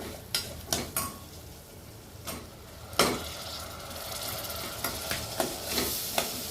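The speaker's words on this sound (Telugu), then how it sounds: "ఇవన్నీ కొంచెం వేగనిద్దాం ఆయిల్లో ఫస్ట్." Spice powders frying in oil for a chicken curry masala sizzle steadily, while a spoon repeatedly clinks and scrapes against the pan in close, irregular strokes.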